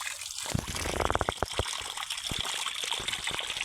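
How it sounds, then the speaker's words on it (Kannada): Clear spring water wells up out of the ground at a hillside temple site in the Malenadu region, a steady near wash of gushing and trickling with irregular splashes and small bursts, no voices. "ಇದು ನೀರು ಭೂಮಿ ಒಳಗಿನಿಂದ ಎಷ್ಟು ಪರಿಶುದ್ಧವಾದ ನೀರು ಬರ್ತಾ ಇದೆ"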